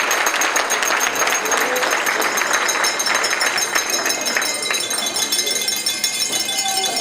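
Wedding reception guests clap steadily for the couple, a lively spread of applause mixed with clinking and rattling, while voices talk over the clapping.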